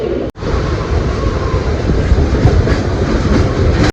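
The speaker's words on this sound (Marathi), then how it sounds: "ही लोकल बघा सात पन्नासची आहे टाइम बघा सव्वा आठ वाजलेत आता येते" A Mumbai local train rumbles loudly and continuously close by, a steady heavy roar with rattling wheel noise filling the whole stretch after a brief sharp break at the start.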